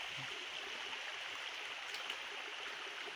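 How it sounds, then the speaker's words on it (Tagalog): A creek stream flows with a steady, even rush of water that stays faint and unbroken, with no talk over it. "Dito tayo sa sapa."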